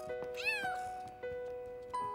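A kitten in a children's cartoon meows several times up close, one meow long and drawn out with a rising then falling pitch and the others short, with no talking.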